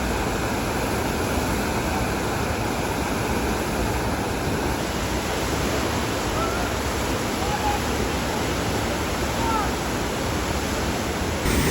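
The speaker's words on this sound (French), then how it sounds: "là j'ai vu non pas une mais 2 cascades, donc ça fait 4 cascades en tout." Waterfall in the Bay of Plenty, New Zealand, a loud, continuous roar of falling water that holds steady from start to finish with no other sounds breaking through.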